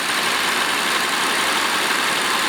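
Engine of a 1989 Nissan Skyline GT-R running with its timing belt cover removed, a steady close idle hum with a dense, even mechanical whir and no talking.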